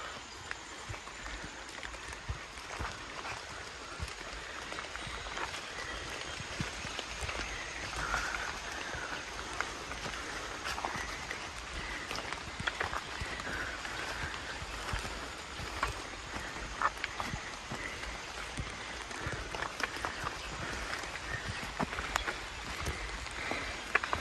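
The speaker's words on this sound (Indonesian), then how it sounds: "Jadi kondisi masih hujan ya, gerimis" Light drizzle falling outdoors on a mountain, a steady soft patter of drops with scattered irregular taps, continuous and fairly faint throughout, with no voices.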